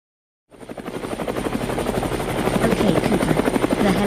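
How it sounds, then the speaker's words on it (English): After a brief silence, a helicopter's rotor thumps in rapidly and grows steadily louder, a rhythmic chopping drone close by. "The helicopter has just landed"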